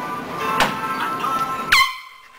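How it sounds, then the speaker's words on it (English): A single sharp air horn blast cuts in near the end, loud and close, after a short stretch of quiet room noise with a faint knock, then drops away abruptly. "We're gonna get Doc one time with the air horn"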